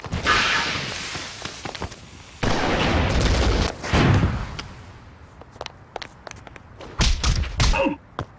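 Screaming Cannon fire in the video game Oni: a series of heavy booming thuds and bursts, loud and close, arriving in uneven clusters with short quiet gaps between them.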